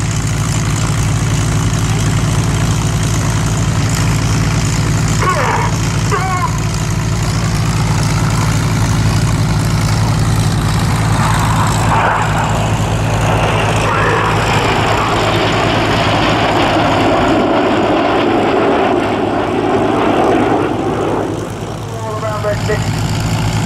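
Red Arrows jets fly an aerobatic display at the Cosford Airshow, a loud, continuous roar with swelling passes as aircraft sweep by. Public-address commentary runs over it.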